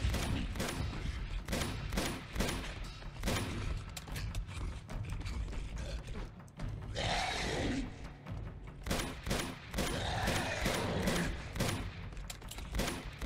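Continuous automatic gunfire from the player's weapon in Uncharted, a long loud stream of rapid shots with mechanical clicks and a brief rushing noise midway, with no voices.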